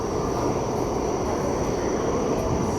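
A subway train arrives at the North Side station in Pittsburgh, filling the space with a steady, loud, broadband rumble and rail noise, with no one talking.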